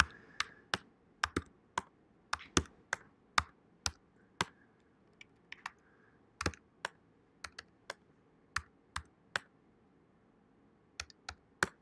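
Keys on a computer keyboard are tapped in short irregular bursts while data is typed in, crisp close clicks separated by brief quiet pauses in a quiet room.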